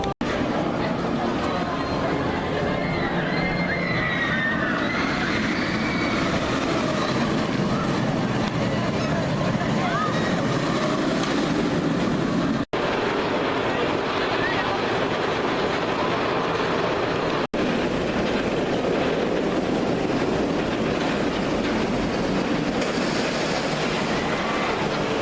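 Riding in the front row of the Shambhala roller coaster at PortAventura Park: a steady, loud rumble of the train on its track with rattling clatter and distant crowd chatter throughout, briefly cut off twice.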